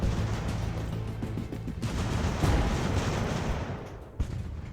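Sustained rumbling artillery fire in an Age of Sail naval battle game during the evacuation of Savannah, a dense, heavy roar of distant booms blending into a continuous wash with no talking.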